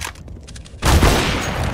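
Gunfire in the video game Tomb Raider starts after a short stretch of quiet ticking, a sudden loud volley of shots with a deep boom that stays dense to the end.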